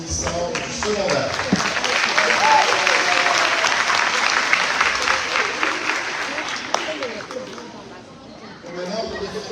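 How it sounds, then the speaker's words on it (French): A crowd at a secondary school graduation celebration held in a cathedral parish setting applauds steadily, the clapping fairly distant and reverberant. Some chatter mixes in before the applause thins out toward the end. "Applaudissons nos finissants du secondaire."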